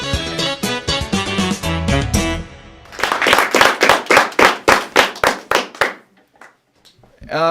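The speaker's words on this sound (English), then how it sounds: "give us a big round of applause for us" A comedy show audience in Fort Collins claps in a steady, evenly spaced rhythm of about a dozen sharp beats, following a stretch of music and voice, then fades to near silence.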